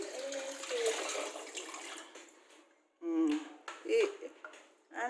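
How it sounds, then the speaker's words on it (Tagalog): Black rice being washed in water gives short bursts of swishing and splashing, separated by brief pauses, with people talking throughout. "Hugasan ang bugas"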